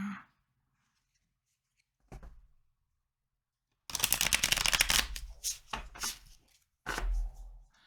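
A tarot card deck being shuffled by hand: a short riffle, then a dense flurry of crisp card slaps and flutters with brief pauses, close and clear with no talking.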